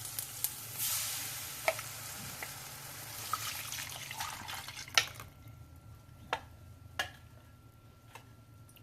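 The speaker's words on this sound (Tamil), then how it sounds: "இப்போ இதில் வந்து கரைச்சி வச்ச மாவை ஊற்றிக்கலாம்." Batter poured into a pan of sautéed onions for egg aapam, a soft sizzle with faint liquid and stirring noises and a few sharp ticks of utensils, close and moderately quiet.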